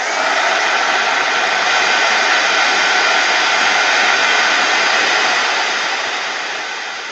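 A hair dryer blows steadily on paper florals for a handmade card. Its loud, even whooshing roar runs close and constant the whole time, easing off slightly at the very end, with no talking.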